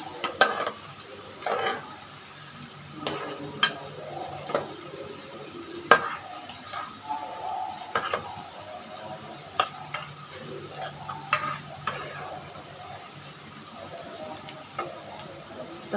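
Food frying in oil over lowered heat until golden, with a low bubbling bed broken by sharp intermittent clicks and scrapes of stirring, moderately close.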